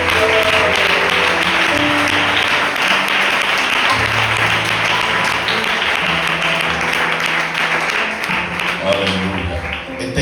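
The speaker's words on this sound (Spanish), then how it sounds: "¿Pueden dar un aplauso fuerte al Señor?" A congregation at a Spanish-language church service breaks into loud, sustained applause, dense and continuous, with instrumental music and sustained low tones playing underneath throughout.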